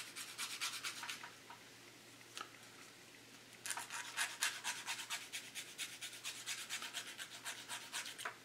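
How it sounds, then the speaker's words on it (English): Steady rubbing and rasping as a broken rear bumper on a Jo-Han 1970 Javelin plastic model car is sanded by hand, in close, fairly quiet strokes that speed into a quick rhythmic run after a brief pause. "As it gets thinner, it gets harder to sand."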